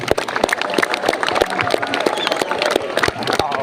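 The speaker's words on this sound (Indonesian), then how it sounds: "tepuk tangan dulu boleh, silakan." Students at a school ceremony clap together, a dense burst of sharp, uneven handclaps close by, crowd murmur mixed in.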